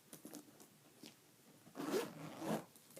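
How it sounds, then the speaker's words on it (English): Zipper closing on a Dooney & Bourke Zip Zip leather satchel, two quick rasping pulls close to the microphone after some light handling rustle. "it zips"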